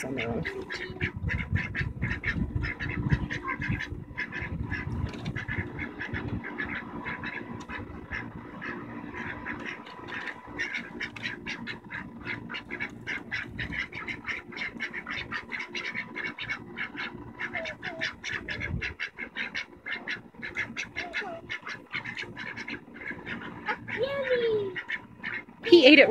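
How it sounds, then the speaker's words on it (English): Ducks quack repeatedly in a lively, fairly close chorus at feeding time, with rapid overlapping calls throughout and occasional voices in the background. "What do you think of those ducks, Naomi?"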